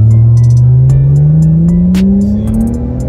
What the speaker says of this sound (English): I don't know if y'all can really hear that exhaust, man. Be wanting y'all to hear it pop. All the little crackles